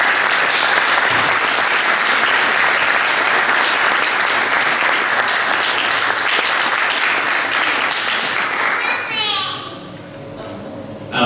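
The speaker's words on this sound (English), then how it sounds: "Everybody has to give Rachel a round of applause again for the room" Wedding guests give a long, loud round of applause in a reception room, with children's voices mixed into the sustained clapping before it suddenly thins out near the end.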